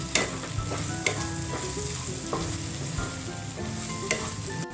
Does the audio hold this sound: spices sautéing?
yes